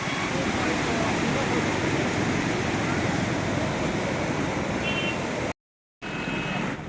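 Water rushing fast through a small siphon on the Bist Doab canal, a loud continuous roar close by, cut off briefly by a short silence before resuming.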